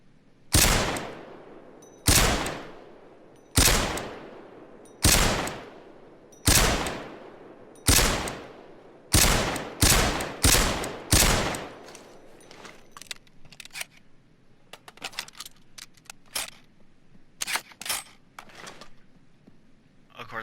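Sharp, loud WA2000 sniper rifle shots from the Payday 2 video game, about eight evenly spaced heavy reports each with a decaying tail, followed by a quicker scatter of lighter clicks and impacts.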